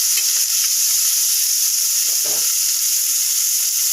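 Spices sauté in a hot pan for paneer pulao with a steady, continuous hiss, broken once by a brief soft stirring sound midway.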